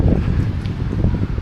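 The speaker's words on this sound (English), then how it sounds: "It's very windy, so apologies for that." Strong wind buffeting a microphone outdoors in a farming village square in Cyprus, a steady low rumbling roar that fills the whole stretch with no pauses.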